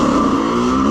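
A Yamaha YZ85 dirt bike with an FMF Shorty exhaust and a worn clutch holds a loud, steady buzzing engine note at close range, running continuously without a break.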